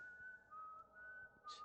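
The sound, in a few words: whistling in video game White Day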